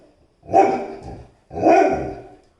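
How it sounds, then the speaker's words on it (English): A dog gives two long, drawn-out barks close by, each loud and sustained with a short pause between, against an otherwise quiet indoor background. "Oh, 3 barks."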